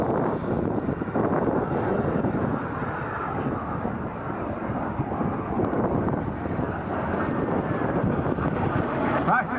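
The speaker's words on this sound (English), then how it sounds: "The L-39, the jet jet, made by Aero Vodahody." An Aero Vodochody L-39 jet passes during the EAA AirVenture airshow with a steady, loud, wind-buffeted engine roar that fills the whole stretch, with a voice faintly audible beneath it.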